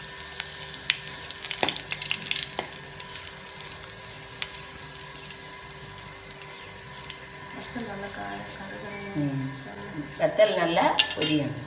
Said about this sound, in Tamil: வத்தல் நல்லா பொரியணும். சின்ன வெங்காயம் நல்ல உள்ளி பொரிஞ்சோம்.